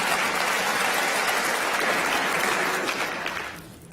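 Audience applause, a dense burst of clapping from a crowd that holds steady and then fades out toward the end, with no voices over it.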